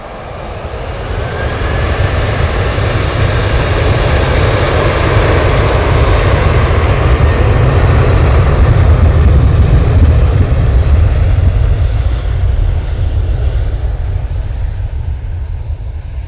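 Ryanair jet taking off at Manchester Airport, a loud, close, sustained engine roar that swells over several seconds and then holds steady as the aircraft climbs away.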